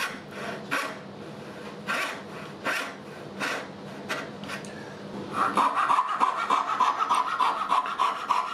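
Hand saw cutting wood for a kumiko display cabinet, a steady series of rasping back-and-forth strokes close by, shifting to a faster, brighter scraping rhythm in the second half, with no talk.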